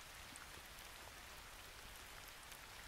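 Steady rain falls outside a house, a soft even hiss with scattered drops, quiet and continuous without a break.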